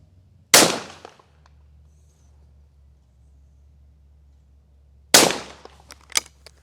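Two loud, close shotgun blasts at clay targets on a Sportrap layout, spaced about four and a half seconds apart, each with a sharp crack and short decay, the second followed by faint clatter.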